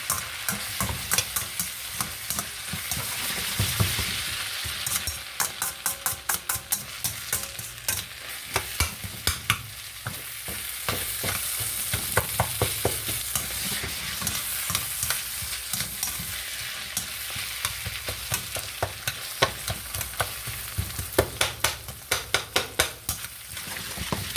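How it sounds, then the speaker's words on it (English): Food sautéing and simmering in oil in a pan on the stove, cooked down for Philly cheese steak sloppy joes: a steady broadband sizzle with many sharp spattering pops and scraping stirs throughout, close and fairly loud, no voices. "It's pretty much sauteed. This has got to simmer now."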